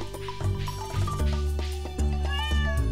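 A cat in the video game Stardew Valley meows several times in quick succession, close and clear, over a soft game soundtrack with no talking.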